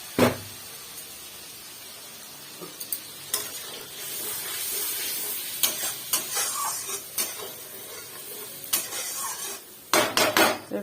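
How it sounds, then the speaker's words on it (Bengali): Oil sizzles steadily as ground spices fry in it, while a utensil scrapes and clanks against a pan in bursts, with stirring knocks that get louder toward the end. "ওই ভাজা তেলটায় দিয়ে মশলাটা আমি ঢেলে দিচ্ছি"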